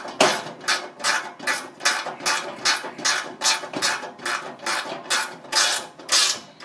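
Rhythmic metallic ratcheting as a tool tightens screws and lock nuts on fan blades, about a dozen regular strokes, close and fairly loud, with no voices.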